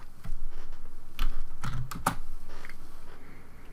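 Short burst of typing on a computer keyboard, a quick run of distinct key clicks with a few louder strikes, close and moderately quiet, alone without speech.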